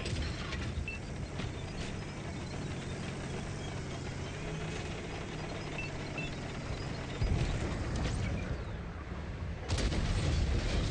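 Artillery fire in a tank video game, distant heavy thuds and sharp cracks over a steady engine rumble, with a louder nearby blast near the end.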